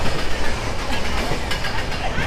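Coromandel Express passenger train running on rails between Kolkata and Chennai, a steady loud rolling roar with rhythmic wheel clatter throughout, heard close from aboard or beside the train.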